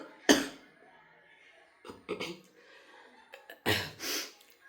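Several harsh coughs from a person with a lingering cough, close to the mic, one burst at the start and more in quick succession later, separated by quiet breaths.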